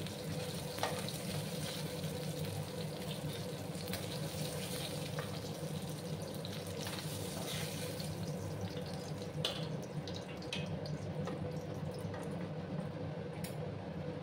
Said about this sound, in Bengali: আমার মাছগুলো ভাজা হয়ে গেছে। আমি মাছগুলো তুলে নিচ্ছি।